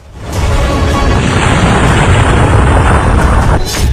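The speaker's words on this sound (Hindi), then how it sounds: "ईरान में फटा क्लस्टर बम" A cluster bomb blast in Iran, shown in war news footage, swells into a loud, sustained, broadband roar that rumbles steadily for several seconds before cutting off.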